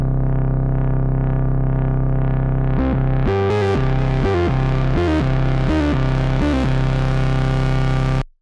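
Moog synth bass line with delay and reverb, holding a sustained buzzy drone before a run of rhythmic notes as the filter cutoff opens and the tone brightens, then cutting off abruptly.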